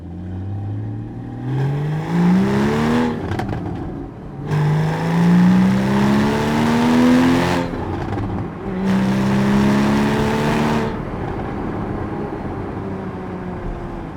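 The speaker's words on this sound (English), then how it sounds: "you can hear the sound, the burbles and the aggressive nature of the sound that you're getting from the exhaust system" A Porsche 981 Cayman S 3.4 with manual gearbox revs up through gears, rising and falling loudly, with rumbling exhaust burbles and crackles between pulls.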